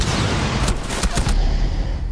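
Gunfire in the video game Rainbow Six Siege: a rapid burst of several close, loud shots in the middle, set over a constant dense wash of game noise.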